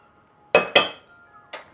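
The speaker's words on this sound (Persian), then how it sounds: "من همینجا با قاشق اونا رو با هم دیگه مخلوط میکنم" Spoon knocking against a bowl while red velvet cake ingredients are mixed, three sharp clinks, two close together and a third after a pause, in a quiet room.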